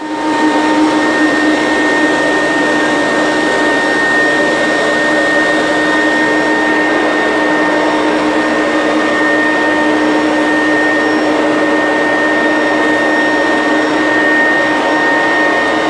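Vacuum cleaner fitted with a hard floor tool, sucking up fur clumps and rice from a hard floor, a steady loud whine and roar with a high tonal hum, continuous and close throughout with no talking.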